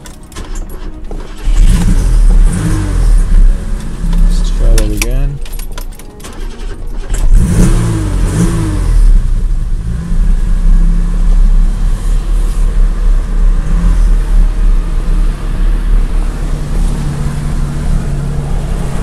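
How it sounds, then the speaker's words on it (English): A 1974 BMW 3.0CSi classic car cranks and starts on a cold day, then its engine is revved in several loud bursts before it settles into a fast, steady idle close by. "I'll start the car up for you guys."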